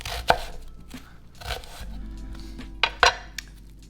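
A kitchen knife chops across an onion on a cutting board, several sharp close knocks of the blade hitting the board at an uneven pace, with softer scraping in between.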